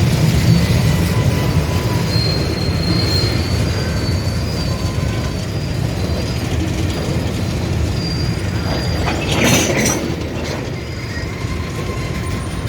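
A long freight train of oil tanker cars rolls steadily past at close range, wheels rumbling and clacking with occasional high metallic squeals.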